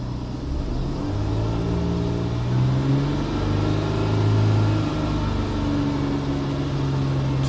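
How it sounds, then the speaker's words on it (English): Nissan Xterra engine held at steady raised RPM, a continuous mid-pitched hum with slight swells in tone, close and alone throughout. "So I'm going to hold the RPMs up a bit."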